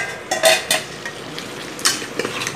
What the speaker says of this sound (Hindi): अब अच्छी तरह से सब्जी भून गया।